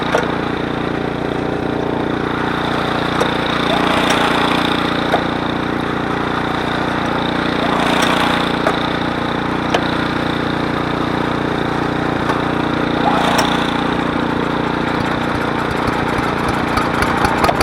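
A snow blower engine, either an Ariens Deluxe 28 or a 359cc Cub Cadet 3X three-stage, runs loud and close at full throttle, a steady unbroken droning roar with no talk.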